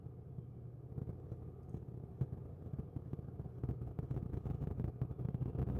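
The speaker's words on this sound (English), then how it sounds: "Now there's like 10 million cars zooming by all the fucking time." Cars pass nearby on a busy road, a steady low rumble of traffic with engines swelling and fading, no talk.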